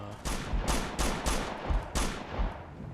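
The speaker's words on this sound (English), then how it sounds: "Some of the shooting even from far away has been good, but like now it feels a bit sloppy at times." Gunfire in the video game Operation Flashpoint: Dragon Rising, a rapid string of about six sharp, loud shots in uneven bursts over three seconds with no speech.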